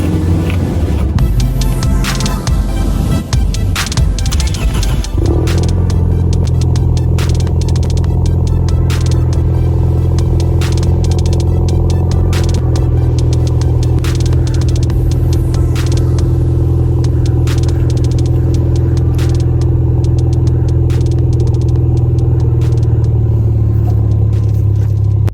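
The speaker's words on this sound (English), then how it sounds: "So this is a cold startup on a 2018 Ford Mustang EcoBoost with an MBRP" 2018 Ford Mustang EcoBoost with an MBRP catback race exhaust on a cold startup: a crank, then a loud, close engine catch that settles into a steady, deep, droning idle.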